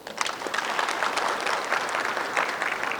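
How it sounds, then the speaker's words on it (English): Conference audience at a poultry conclave applauding loudly, dense sustained clapping from a crowd filling the whole moment. "So clap for yourself very loudly once."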